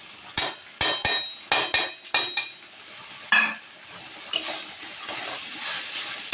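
A metal spatula knocks and scrapes in a pan while fried potato and pumpkin are mixed into stir-fried water spinach, giving a series of sharp clanks in a quick rhythm, then fainter scraping and a soft sizzle.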